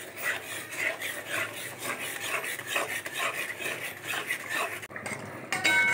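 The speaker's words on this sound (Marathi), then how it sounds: "पण सारखी सतत ढवळत राहायची, नाही तर ती खाली लागू शकते." Scrambled egg for chicken fried rice, cooked over a wood-fired stove, is stirred continuously in a pan with a metal spatula, making steady scraping and rasping strokes up close without pause.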